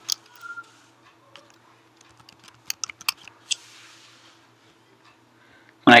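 Scattered keystrokes tap on a computer keyboard while report comments are edited, light irregular clicks in short bursts with quiet gaps, ending in one sharp louder click.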